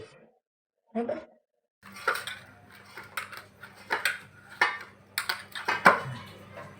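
Cashews, almonds, cardamom and raisins mixed in a bowl for a ghughra filling: after a short silence, a run of light clinks, taps and scrapes comes in irregular bursts, with a faint steady hum beneath.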